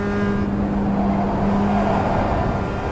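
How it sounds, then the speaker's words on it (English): Mazda MX-5 engine lapping the Nürburgring in the iRacing sim, a loud, constant engine drone with a steady tonal whine, held flat out for the whole short stretch. "I'm driving an MX-5."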